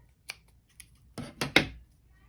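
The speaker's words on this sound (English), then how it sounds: "Then I'm going to just cut this one off." Scissors cut off a piece while making a star hair clip: a couple of faint snips, then two or three sharper, close cuts in quick succession, in an otherwise quiet room.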